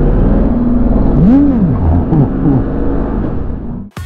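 A Yamaha MT-07 with a roughly 700 cc twin-cylinder engine accelerating hard, its loud engine note rising in pitch through the gears and held steady close to the microphone before cutting off abruptly.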